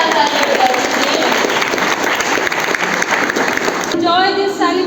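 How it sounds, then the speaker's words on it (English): Loud, continuous audience applause at a school annual day celebration, a thick wash of clapping hands that fills the space before a voice begins speaking at the very end. "So please clap harder for everyone."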